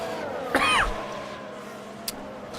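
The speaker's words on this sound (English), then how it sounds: "I need to cough a second," A single short cough or throat clear from a nearby man during live Formula 1 race commentary, sharp and brief, followed by quiet background.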